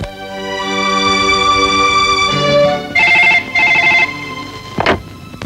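A telephone rings with a steady electronic tone, pausing briefly between bursts, followed by a short click near the end.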